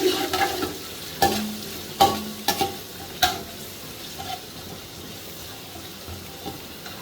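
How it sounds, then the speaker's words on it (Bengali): Six onions' worth of chopped onion frying in oil for chicken tehari, with a soft steady sizzle under several sharp clinks and scrapes of a spatula stirring the pan, close up and without talk. "পেঁয়াজ কুচানো আমি দিয়ে নিলাম"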